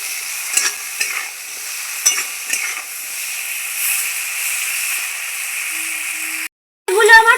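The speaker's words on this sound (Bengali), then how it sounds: "কড়াইয়ের তেল গরম হয়ে গেছে উচ্ছেগুলো আমি ভেজে নিচ্ছি" Bitter gourd fries in hot oil in a wok with a continuous hiss and sizzle, broken by a few scraping stirs early on, then a short gap before louder crackling resumes.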